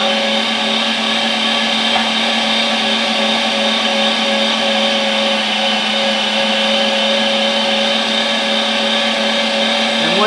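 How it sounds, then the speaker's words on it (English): An electric meat grinder runs while a slice of bread is pushed through after venison: a loud, steady motor drone with a constant whine, unbroken for the whole stretch. "turn your grinder on"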